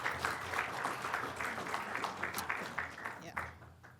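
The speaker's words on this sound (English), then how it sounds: "Let's give him a round of applause." Audience applause welcoming a speaker to the stage at a Bermuda business summit, a moderately full spread of clapping with faint voices mixed in, tapering off near the end.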